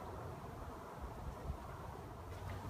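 A soft, steady buzzing of many honey bees, close to 10,000, hums close by while being moved into a hive, continuous and low, with faint rustle in the background.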